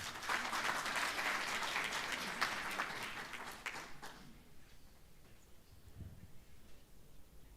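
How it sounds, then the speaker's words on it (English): An audience at a breakfast meeting applauds a presenter with a fairly loud burst of clapping that fades out after about four seconds, leaving a quiet room with a faint thump. "A round of applause for him."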